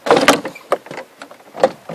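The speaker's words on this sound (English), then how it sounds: "All you do is just pull up on the door panel" Plastic clips pop and the interior door panel scrapes and rattles as it is pulled up off the rear door of a 2004-08 Ford F-150, a close series of uneven cracks and rustles with no talk.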